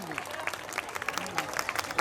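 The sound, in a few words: audience applause at a school function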